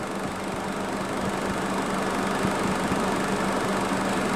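A Daihatsu Mira Avy engine runs close by at a steady, slightly rough hum with faint periodic ticking, a constant drone with no clear rise from the accelerator and no voices.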